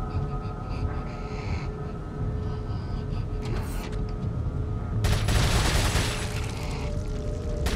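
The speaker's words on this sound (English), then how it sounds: "A rapid-fire machine gun." Rapid machine gun fire in the Resident Evil 4 video game, a dense crackling fusillade over a rumbling game soundscape, growing louder and busier in the last few seconds.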